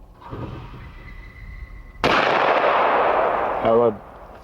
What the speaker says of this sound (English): Club members and the Pennsylvania Game Commission treated the kids to a day of trap shooting.